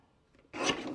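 A single short rasping cut through a strip of dark gray scrapbook paper, dry and close, starting after a half-second of near silence and lasting to the end.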